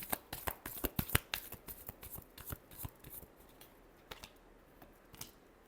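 Tarot cards being shuffled by hand, a quick series of sharp riffling snaps and soft slaps, close and fairly quiet, thinning out toward the end.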